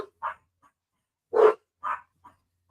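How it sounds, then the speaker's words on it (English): A puppy gives several short, sharp barks and faint whimpers in separate bursts, one louder yelp in the middle, with quiet gaps between and no talking. "Can you hear the puppy?"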